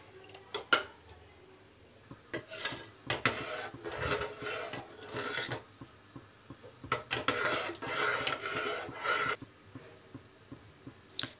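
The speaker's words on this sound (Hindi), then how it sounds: "इसकी मलाई ये जो है साइडों में खुरचन इसकी ऐसे कर लेंगे खुरच खुरच कर इसको" Milk cream scraped from the sides of a pan of simmering kesar badam milk, a spoon rasping and clinking on metal in busy bursts with brief pauses between.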